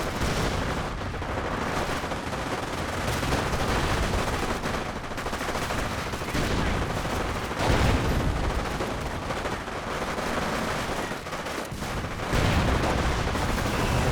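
Artillery barrages and gunfire in the World War II strategy game Company of Heroes, a dense continuous stream of overlapping shots and booming impacts with periodic louder bursts, no voices.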